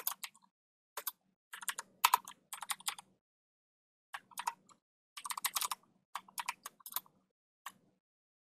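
Fingers type code on a computer keyboard in quick bursts of clicks separated by short pauses, close and fairly quiet, with no talking.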